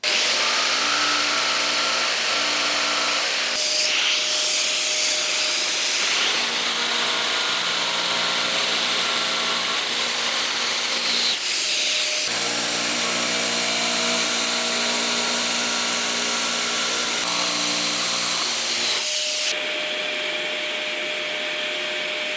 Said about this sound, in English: I can finish that off with a jigsaw as well